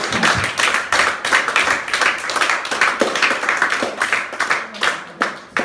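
Congregation at a French-language church sermon on the Book of Job applauding together, a dense, steady wash of many hands clapping close and loud for several seconds, with scattered louder claps near the end.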